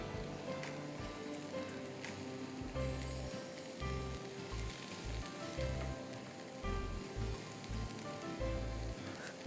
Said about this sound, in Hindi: स्टर फ्राई कर दिया आपने 1-2 टेबलस्पून शाहताज कुकिंग ऑयल में